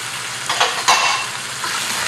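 Liquid seasoning of fish sauce with sugar poured into a hot pan of wood ear mushrooms during Vietnamese cooking, giving a loud burst of sizzle and stirring that surges twice near the start and then settles into steady frying.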